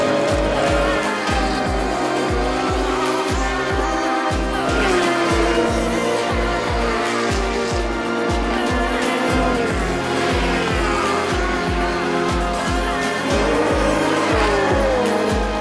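Porsche 911 RSR GT race car lapping Spa-Francorchamps, its engine roaring loud and close with rapid rhythmic gear-change pulses and rising revs, some tire squeal, continuous throughout with no talking.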